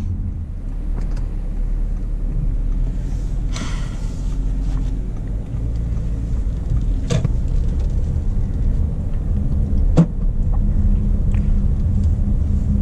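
A 3.0L diesel Audi A8L drives along with a steady low rumble of engine and road noise, broken by a couple of sharp clicks or knocks inside the cabin.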